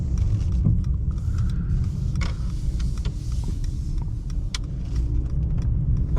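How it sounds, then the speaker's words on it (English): A 2020 Mercedes-Benz E53 AMG pulling away in comfort mode, a steady low rumble of engine and road noise inside the cabin with faint clicks and small rattles, no talking. "let's take this Mercedes on a drive now"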